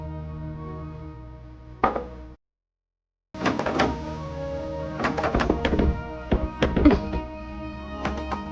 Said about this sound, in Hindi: ये नितिन ने दरवाजा बाहर से बंद किया है क्या?